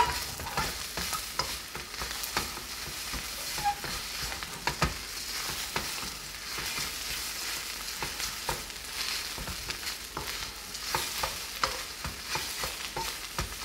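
Fried rice being stirred in a hot pan, a steady sizzle and frying hiss with repeated scraping and tossing sounds throughout, close and continuous with no talking.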